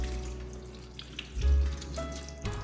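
Turkey giblets are rinsed under a running kitchen tap, a close steady stream of water with splashing bursts as the pieces are moved under it.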